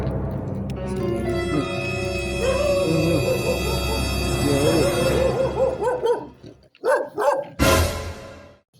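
Dogs bark and yip at a house where one cat and four dogs are present, loud and close, with a continuous mechanical hum and tone behind them at first, then a few separate barks and a sharp burst near the end.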